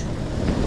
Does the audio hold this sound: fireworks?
no